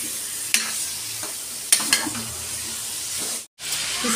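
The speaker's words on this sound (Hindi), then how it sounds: "अब इसमें हम खड़े मसाले में चिकन ऐड कर दिए हैं, इसे भुनेंगे 3 से 4 मिनट के लिए" Chicken pieces frying with whole spices in a pan, a steady soft sizzle with a few sharp stirring clatters, close and alone, briefly dropping out near the end.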